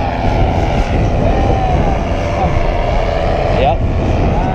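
A paramotor engine droning loudly and steadily close by during a powered paragliding landing, with someone talking over the engine noise.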